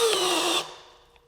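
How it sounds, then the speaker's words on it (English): A DeWalt cordless drill from the DCD801/DCD806 line with an anti-rotation system whirs at steady high speed close by, then cuts out abruptly and its motor winds down into near quiet. "Even when I bring the drill back, it shuts off."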